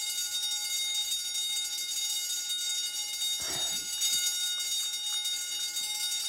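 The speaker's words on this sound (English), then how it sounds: "Is there any way to turn this alarm off?" An alarm rings continuously after a creature has escaped, a steady high-pitched electronic tone that persists throughout, with a brief burst of other noise partway through.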